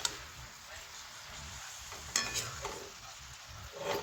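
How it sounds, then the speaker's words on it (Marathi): A vegetable with dal cooks in a pan after salt goes in, a low steady sizzle with a few faint scrapes and ticks of a spoon stirring, quiet and close, with a voice briefly audible. "थोडं मीठ टाकून घ्यायचं आहे आणि हलवून घ्यायचं."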